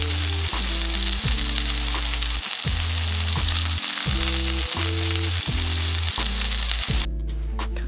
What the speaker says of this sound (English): cook both sides of the salmon for at least 1 minute